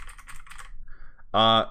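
Clacking on a new computer keyboard, a quick cluster of soft key taps followed by a short, loud vocal burst.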